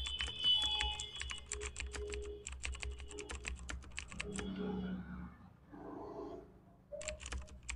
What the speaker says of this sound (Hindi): पासवर्ड में पासवर्ड टाइप करेंगे